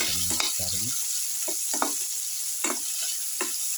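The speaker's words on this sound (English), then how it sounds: "put in some curry leaves, salt and mix thoroughly" Winter melon and curry leaves are stirred with salt in a frying pan, giving a soft sizzle and a few scraping spoon strokes, with a voice briefly audible at the start.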